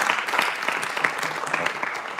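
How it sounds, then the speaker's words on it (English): A conference room audience gives a round of applause for a speaker leaving the stage, a dense, steady patter of many hands clapping together at close range, with no voices over it. "if I could have a round of applause"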